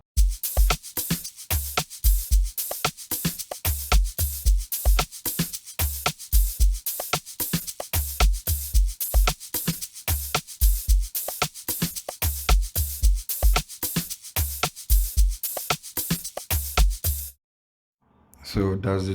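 Amapiano drum pattern made in FL Studio, with punchy low kicks, log-drum-style hits and constant bright shakers looping loud and steady for about seventeen seconds, then a brief gap before the beat restarts.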